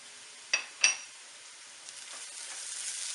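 Garlic and ginger fry with golden-browned onions in a pan, a steady soft sizzle under two sharp utensil clinks near the start, then a gentle stir as the frying hiss builds slightly.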